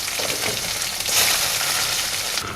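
Onions go into a pan of hot oil with cinnamon and cloves, already holding browned urad dal and chana dal, producing a loud, steady sizzle that swells when they hit and keeps crackling, with no talking.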